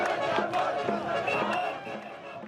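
Jubilant crowds in Khartoum greet protesters arriving after three days of bus travel from Darfur: a dense, steady wash of many voices with chanting or singing tones, moderately loud and close, easing slightly toward the end.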